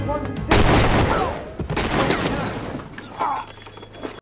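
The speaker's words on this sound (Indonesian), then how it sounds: "dengan menggunakan sepucuk pistol, Robert hampir saja tertembak namun beruntung bisa menghindar dengan cepat" Pistol gunshots in a film scene, a few sharp loud cracks with echoing tails spread across the moment, mixed with other movie sound.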